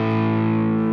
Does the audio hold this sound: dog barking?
no